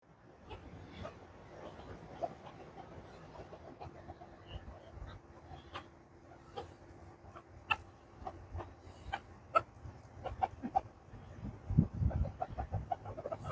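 Chickens cluck and cackle faintly at a distance outside a Sizzler restaurant, scattered calls growing busier toward the end over low background noise.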